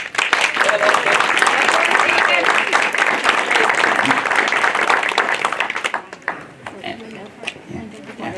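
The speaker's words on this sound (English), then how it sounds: "Let's give each other a round of applause" At a book launch, the gathered crowd gives a loud round of applause. It holds full and steady for several seconds, then breaks into scattered claps under murmuring voices and room noise.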